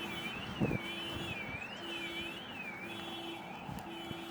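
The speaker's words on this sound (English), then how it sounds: "Somebody set the alarm off." Car alarm going off on a street in Stirling, Scotland, a warbling siren sweeping steadily up and down at moderate distance, with intermittent steady beeping tones and background street noise.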